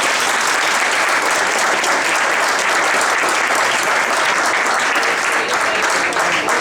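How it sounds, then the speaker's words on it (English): A loud, dense round of applause from a panel discussion audience at a speaking event, many hands clapping continuously and evenly throughout with no pauses or voices. "Big round of applause for you"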